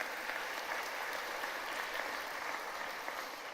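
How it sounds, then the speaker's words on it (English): A crowd claps at a college commencement ceremony, steady, even applause that sounds somewhat distant and fills the space without any voices. "Yeah, a round of applause."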